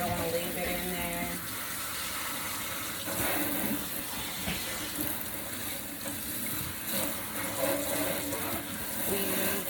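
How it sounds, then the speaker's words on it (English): Running water from a tap splashes steadily over a girl's braided hair as it is rinsed, a continuous close wash with occasional faint voices underneath. "Rinse it out real good."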